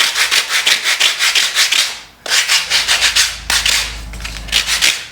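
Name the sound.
sanding block cleaning up wooden edges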